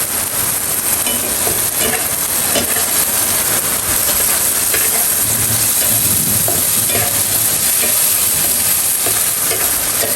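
Small gura chanda fish fry in a pan with a loud, steady sizzle and crackle that carries on evenly throughout, nearby and without talk.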